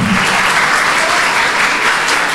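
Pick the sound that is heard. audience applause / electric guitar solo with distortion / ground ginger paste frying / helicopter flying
audience applause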